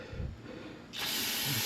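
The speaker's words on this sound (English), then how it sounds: "spray some of that junk off" Spray blasting built-up grime off an engine windage tray during an oil pan gasket job on a single cab dually truck, a loud steady hiss that starts abruptly halfway through after quieter handling noises.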